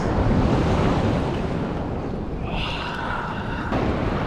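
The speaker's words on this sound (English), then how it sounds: "Quite a bit of waves." Sea waves breaking on Faro beach in the Algarve, a steady loud wash of surf with wind buffeting the microphone, no voices.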